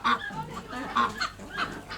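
Repeated loud honking from a group of large ducks, several calls overlapping in an uneven rhythm, fairly close.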